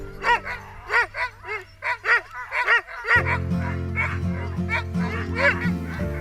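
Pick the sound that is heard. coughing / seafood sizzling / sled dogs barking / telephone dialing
sled dogs barking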